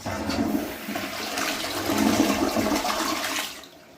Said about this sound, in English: we'll do the single flush now